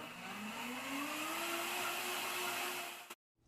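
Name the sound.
Vitamix blender running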